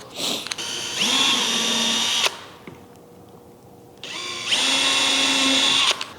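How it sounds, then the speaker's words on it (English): A power drill whines loudly in two sustained bursts of about a second or more each, separated by a quieter pause, close and steady, drilling holes for a kayak bow accessory plate. "And then drill out the remaining holes."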